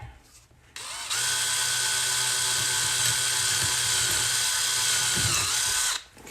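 A power drill bores a second hole, whining loud and steady for about five seconds after a short quiet start, then cutting off abruptly, with no talking over it.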